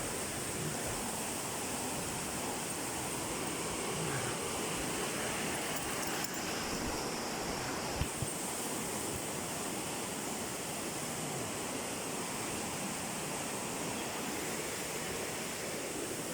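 A river swollen high by heavy rain rushes past in full flood, a loud, unbroken roar of fast water that stays constant throughout, with only a faint brief knock partway through.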